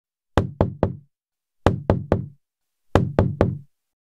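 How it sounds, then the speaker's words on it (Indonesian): Three sharp knocks on a door, then a pause, three more, another pause and a final set of three, close and loud in an otherwise silent room. "suara ketukan itu terdengar lagi. Lebih keras, lebih mendesak."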